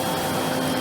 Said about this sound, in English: Proper vacuum cleaner.